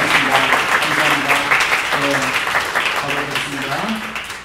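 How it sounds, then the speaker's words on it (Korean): Audience applause greets newcomers being introduced at a church service, steady clapping running the full length while people talk over it. "박수 환영했습니다"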